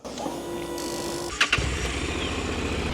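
A motorcycle engine catches and starts, moving from a steady electric whir through a couple of sharp coughing bursts into a low, rapid idle that stays close and fairly loud.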